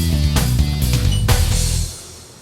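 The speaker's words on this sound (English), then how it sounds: "That's the cowbell." Cowbell voice on an electronic keyboard, struck in a rapid string of bright, close hits over sustained tones before it cuts off and decays, with no talking.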